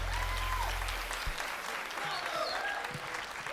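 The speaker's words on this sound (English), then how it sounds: "Now you can applaud." Applause from the audience after a Latin jazz performance lecture in a concert hall, a steady wash of clapping at a distance with scattered voices and a brief low thump.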